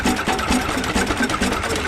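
An antique Avery tractor with a two-cylinder opposed engine runs at a quick, even chuffing rhythm, close and fairly loud, with mechanical clatter repeating steadily.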